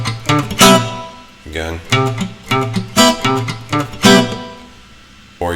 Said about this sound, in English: you can use the open string. So it sounds like this with this string.